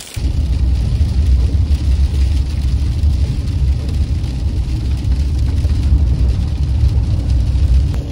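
Steady, loud low-frequency road rumble inside a truck driving along a remote road, continuous engine and tire noise throughout with no voices.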